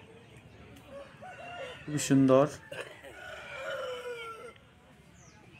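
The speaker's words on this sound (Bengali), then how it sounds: "পরে আরও একটা মোরগ দেখছেন" A rooster crows once, close and fairly loud, in a busy village chicken market in Jhargram, West Bengal, amid crowd murmur, with someone speaking briefly nearby.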